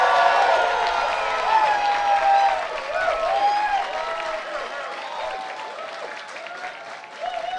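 A debate audience applauds and cheers at once, dense clapping with whoops and shouts that stay loud, then slowly thin out.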